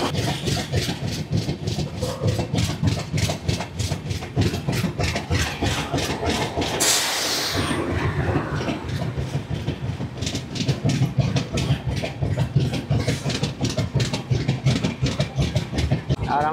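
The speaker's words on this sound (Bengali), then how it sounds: "আর আমাদের ট্রেন ঢুকেছে 3 নম্বর প্ল্যাটফর্ম।" The Chennai–Howrah Mail pulls into Annavaram station with a steady, loud clickety-clack of wheels over rail joints. A brief broadband whoosh near the middle briefly swamps the rhythm, and the beat then resumes unchanged.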